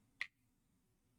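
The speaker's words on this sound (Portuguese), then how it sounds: "Esse é um barulho de estalar de dedos" A single crisp finger snap rings out alone near the start, sharp and close, followed by quiet room tone.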